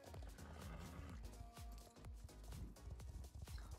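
Star Stable game audio of a horse: rhythmic clip-clop of hooves with whinnying neighs over a dense, continuous backdrop.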